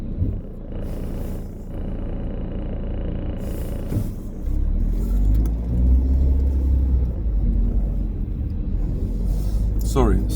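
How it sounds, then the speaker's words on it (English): Steady low road rumble and engine drone of traffic heard from inside a moving car, swelling louder midway, with someone talking over it. "Sorry, so much traffic."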